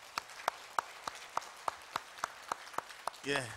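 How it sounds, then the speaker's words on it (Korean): At a Korean church gathering honoring fathers, about a dozen evenly spaced claps ring out in a slow, steady rhythm, fairly quiet. A voice begins to speak just as the clapping ends. "우리 아버지들을 위해서 한번 크게 박수 치도록 하겠습니다."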